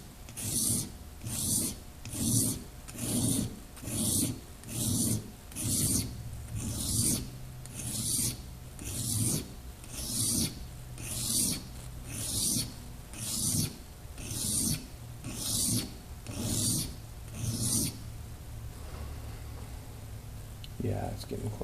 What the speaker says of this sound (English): I'll flip the stone over and I'll use the finer grind